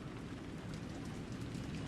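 Steady rain falls across the wet tiles of a city plaza in the Alan Wake 2 video game, a continuous, even hiss with low rumbling undertones and no voices.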